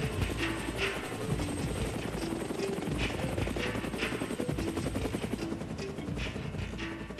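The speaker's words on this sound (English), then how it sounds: "The Chilean Air Rescue Service dispatches helicopters to rescue the remaining survivors." Rescue helicopters over the Andes give a steady, thumping rotor drone, continuous and fairly loud throughout, with a droning engine hum and no voices.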